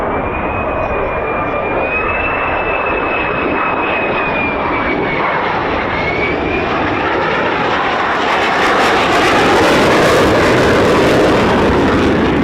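F-15 and F-35 fighter jets at RAF Lakenheath make a loud, sustained engine roar with a high whine, building to a harsher crackling thunder toward the end as a jet powers past close by.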